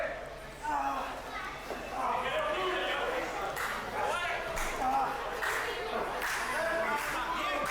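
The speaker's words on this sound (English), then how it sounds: "The crowd trying to lift up Justin Cotto right now, just cheering him on" A wrestling crowd at a live event cheers on Justin Cotto, with a steady mass of shouting voices and some clapping close around.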